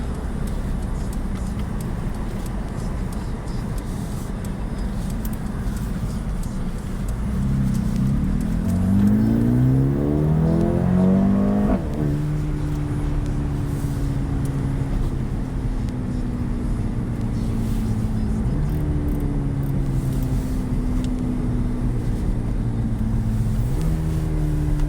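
A 2020 Mercedes-AMG CLA engine revs hard while driving, a loud, steady drone that climbs in pitch through the gears with clear shift breaks and rising tones, heard close from inside with no talk.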